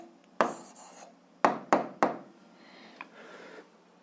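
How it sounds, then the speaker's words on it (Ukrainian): A pen or pencil scratches out an answer on paper for a 7th-grade algebra exercise: a few short, close strokes with sharp onsets, then fainter scribbling trailing off, without speech. "записуємо відповідь, пишемо відповідь"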